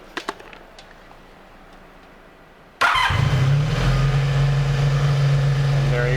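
A cafe racer motorcycle engine catches after a few faint clicks and near silence. It starts abruptly and settles into a loud, steady idle that rumbles on to the end, with a voice talking over it.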